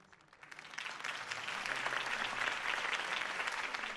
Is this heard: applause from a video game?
yes